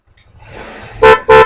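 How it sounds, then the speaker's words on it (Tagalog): Two loud, close blasts from an aftermarket dual horn on a Motorstar Easy Ride 125 motorcycle, each a rich two-tone honk lasting about a quarter second, following a faint rising hiss. "Ito yung busina natin."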